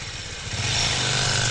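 A motorcycle engine runs close by with a steady, continuous drone that swells slightly toward the end. No voices are heard.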